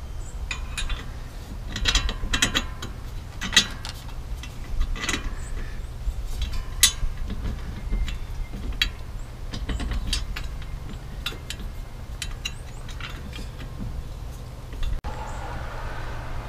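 A Liberty Navigator garden hose reel rotating freely, giving off repeated clicking, ratcheting and creaking mechanical sounds over a low steady hum, close by and without talk.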